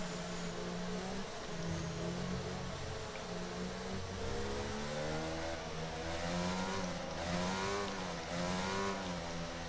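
Formula 1 race car engines in F1 22, a continuous high revving whine rising and falling in pitch as the cars run behind a safety car, steady and fairly close with no talk.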